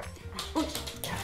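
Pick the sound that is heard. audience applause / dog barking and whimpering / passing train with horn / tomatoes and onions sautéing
dog barking and whimpering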